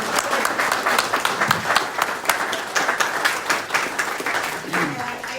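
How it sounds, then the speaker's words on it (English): An audience applauds graduates at a nursing graduation ceremony, with sustained indoor clapping from a crowd lasting several seconds. "could we please have a round of applause for our worthy graduates?"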